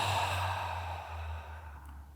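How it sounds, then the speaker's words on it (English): A single open-mouthed exhale during a yoga breathing exercise, a soft breathy release fading out over a couple of seconds, close and alone. "Take a nice deep breath in through the nose to fill, and open mouth exhale to release."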